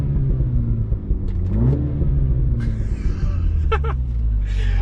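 Mini Cooper S John Cooper Works in sport mode, idling in neutral with its exhaust blipped: a loud, low rumbling idle with a quick rising rev, followed by sharp crackling pops from the exhaust.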